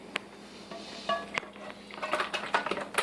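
Brussels sprouts shifted from one pan into another in a home kitchen, with scattered clinks and taps of metal cookware and utensils building into a busier clatter near the end, close and fairly quiet.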